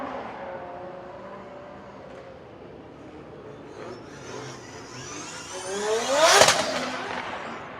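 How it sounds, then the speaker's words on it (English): A loud drift car at a drifting qualifying event in Riga approaches with a rising engine roar. It sweeps past close by with a sharp Doppler whine, then fades as it heads back to the pits. "a quite loud car by Karim Khani as he drove past us back to the pits."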